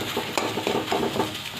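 Amla pulp being stirred in a kadai over a gas flame, soft scraping strokes with a faint underlying sizzle, close and quiet with no talk.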